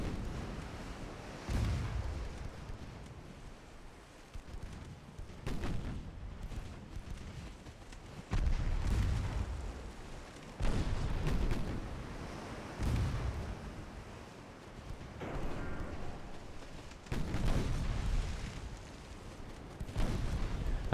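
Naval gunfire from Mark II 3-inch guns in the naval strategy game Ultimate Admiral: Dreadnoughts, 1896 French campaign: a string of heavy, booming shots arriving every few seconds over a steady low battle rumble.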